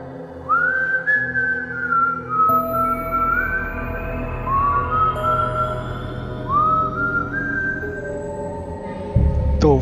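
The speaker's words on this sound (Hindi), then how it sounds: "वो सीटी की आवाज़ हो" Eerie, drawn-out human-like whistling of the El Silbón legend, several rising and falling glides repeating over a low droning background, loud and close with a brief thump at the end.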